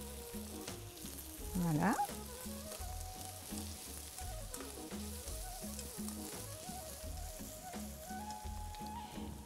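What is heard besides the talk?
red bell pepper frying in a pan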